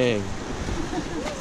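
Ocean surf washing up on a California beach, a broad low rumbling wash of water near the shore with a brief tonal sound at the start.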